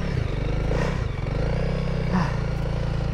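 A Honda CRF300L dirt bike revs hard while stuck in heavy snow, its engine droning steadily and close with a rattling, clattering texture and small surges in pitch as the throttle is worked.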